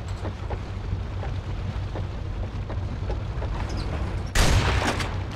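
A shotgun in the video game Resistance 3 fires at blast tubes, a single loud, broadband blast near the end standing out over a steady low rumbling game ambience.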